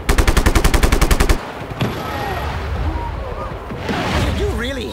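Rapid automatic gunfire in the video game Just Cause 3. A loud, evenly spaced burst of shots opens the moment and then cuts off, followed by voices and other game sounds.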